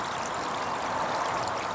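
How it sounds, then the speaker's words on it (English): A small natural stream, little more than a drain, trickles and burbles outdoors among trees as a steady, soft wash of running water with no voices. "There's a little wee stream here"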